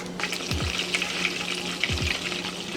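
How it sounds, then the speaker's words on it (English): A full stick of butter sizzles and crackles as it melts in a pan over medium-low heat, a steady close hiss with small popping bursts throughout. "I drop a full stick of butter"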